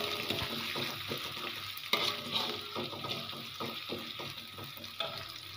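Spring onion stalks are stirred into spice paste frying in a pan for spicy Javanese fried noodles, close sizzling broken by repeated scraping strokes of the spatula at a steady rhythm, with no talking.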